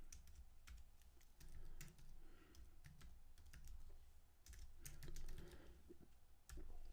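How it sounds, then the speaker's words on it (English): Steady typing on a computer keyboard, a continuous patter of key clicks with occasional louder taps, close and clear with no talking. "Now, as I'm typing this"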